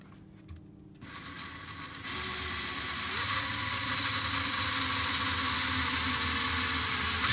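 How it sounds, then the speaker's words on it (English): A power drill with a 1/8 inch bit whines into the trunk of a Datsun 240Z, starting quietly and then holding a steady, high, continuous drone that grows louder, close up. "We're going to start with an 1/8 inch drill bit."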